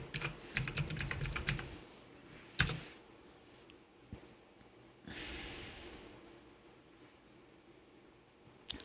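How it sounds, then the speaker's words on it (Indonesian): Quick clacking keystrokes as a password is typed on a computer keyboard at a Linux Mint login screen, a short burst of taps ending in a sharper Enter press, followed by a soft breath-like hiss in a quiet room. "Kita masukin passwordnya."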